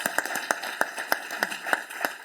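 Sparse applause from a small round-table audience at a Barcelona film festival panel, a handful of distinct claps spaced out in a loose rhythm, fairly quiet and close, with no voices over it.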